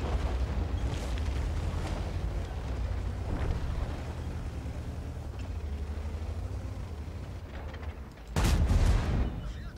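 Tank gunfire in a World of Tanks style tank battle, with booming shots over a rumbling engine bed and one loud close blast near the end.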